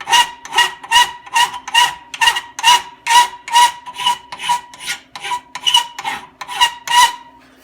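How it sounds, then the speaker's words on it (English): A coarse file is worked over a part from a 1946 Maytag 72D engine in about sixteen steady rasping strokes, loud and close with a regular back-and-forth rhythm. "Here's a little coarser file."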